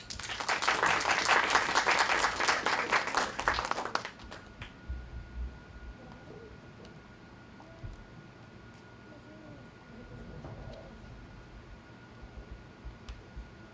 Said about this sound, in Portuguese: Vamos aplaudir Paola Almeida